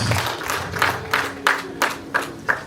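Several bursts of clapping at a Rwandan wedding gathering for the bride's request and dowry ceremony, with about six short rounds of applause a fraction of a second apart, fairly close and moderately loud.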